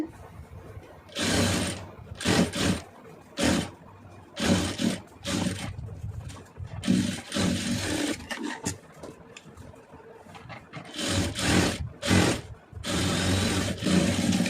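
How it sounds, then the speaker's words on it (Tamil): Sewing machine stitching folded-over cotton cloth scraps for a door or dining mat, heard as repeated loud bursts of rapid mechanical clatter separated by short pauses, with no talking. "இப்போ நான் வந்து மடக்கி அடிக்க போகிறேன் இது காட்டன் கிளாத் அப்படிங்கிறதுனால பிரிய மாட்டாது"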